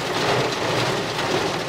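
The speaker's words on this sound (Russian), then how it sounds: "у нас поливает, продолжается дождик" Heavy rain pours steadily outdoors in a thunderstorm with gusty wind, a dense, even hiss of drops hitting surfaces that fills the whole moment without pause or voices.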